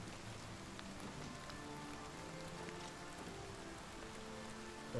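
Rain falls gently and evenly in Oblivion Remastered, a quiet, constant patter with low background music tones.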